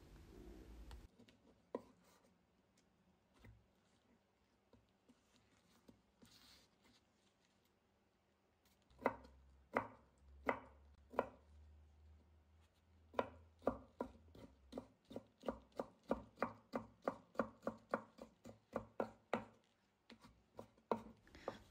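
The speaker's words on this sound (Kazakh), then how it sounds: "Енді кезекте тұздалған қиярымызды да соломка етіп турап аламыз." A knife cuts pickled cucumbers into thin strips on a board. Quiet handling comes first, then a run of crisp, evenly paced chops that speeds into a quick rhythmic series, close and clear.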